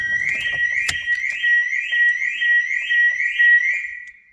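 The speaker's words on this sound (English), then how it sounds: "So you're hearing the alarm now," A Clifford Hornet alarm and immobiliser system on a white 1995 Volkswagen Corrado VR6 sounds a loud, close electronic siren, rising whoops repeating about every half second, with a click near the start.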